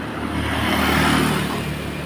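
Motor vehicle engine passing along a road, a continuous loud rumble that swells toward the middle and eases off, heard alone without speech.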